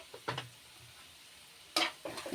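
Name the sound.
frying chicken with spices and coriander powder in pan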